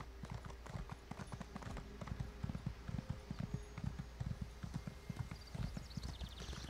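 Horse hooves galloping in Elder Scrolls Online, a rapid steady clip-clop rhythm of hoofbeats throughout, fairly quiet and close, with faint game ambience behind.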